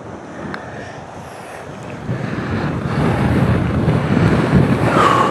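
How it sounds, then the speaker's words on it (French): Steady, roaring wind buffets the microphone on the Villaitana golf course in Spain, growing louder and gustier partway through, with a surf-like rush underneath and no voices. "J'en ai marre de ce vent."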